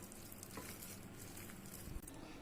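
Soft, wet squelching and scraping as potato and country chicken are mashed in a bowl, a continuous quiet texture with occasional firmer presses.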